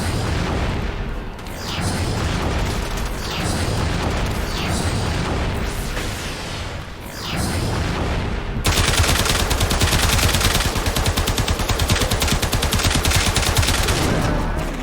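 Rapid, loud gunfire from a weapon in the video game Warframe, with sustained bursts of shots and booming impacts throughout, ending in a dense, continuous stream of automatic fire.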